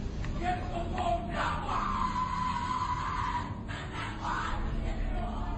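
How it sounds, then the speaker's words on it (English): Distant chanting and shouting voices at a Skull and Bones initiation ceremony echo in a reverberant space, with crowd noise and a rising yell, muffled and recorded from afar. "What you're hearing is the first recording ever made of the Skull and Bones initiation ceremony."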